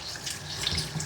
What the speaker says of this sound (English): Watch the water.